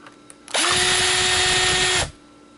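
A power drill backs a screw out of a treadmill console in one steady whirring run of about a second and a half, close and loud, spinning up quickly and cutting off abruptly.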